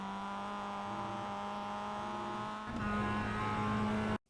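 Mazda MX-5 race car engine in iRacing at Oulton Park Island, a steady close droning whine holding pitch, then a brief dip and shift before climbing again, cutting off abruptly at the end.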